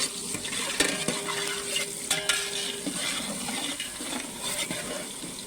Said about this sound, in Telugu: ఉల్లిపాయ పచ్చిమిర్చి అన్నీ కొంచెం ఫ్రై అయ్యే వరకు ఇలా కలిపెట్టుకోవాలి